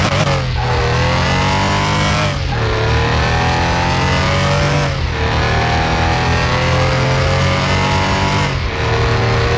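A Porsche 911 RS engine in Car Mechanic Simulator 2021 revs hard and climbs in pitch repeatedly, with brief drops between gear shifts, loud and close with a synthetic, game-like tone.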